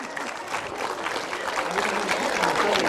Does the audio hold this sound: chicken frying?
no